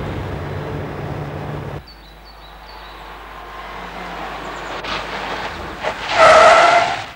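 A 1975 Volkswagen Polo brakes hard. A rumble of the moving car gives way to a louder, sharp tire squeal near the end, with no voices.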